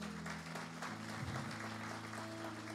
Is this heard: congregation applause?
yes